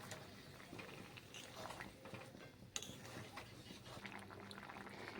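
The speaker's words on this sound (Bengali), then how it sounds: "দেখো বন্ধুরা, ঝোল ফুটে গেছে।" Fish egg curry gravy bubbling in a pot: a faint, steady simmer with soft popping and occasional small clicks, quiet throughout with no voices.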